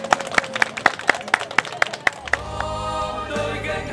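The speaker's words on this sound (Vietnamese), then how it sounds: "Vỗ tràng pháo tay." Audience applause at a Vietnamese television show: a steady run of sharp, rhythmic claps that gives way to music and a fuller crowd sound.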